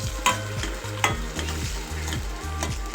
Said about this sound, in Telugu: ఇప్పుడు మంచిగా కలుపుకుందాము. కలుపుకొని బాగా వేయించేసుకోవాలి.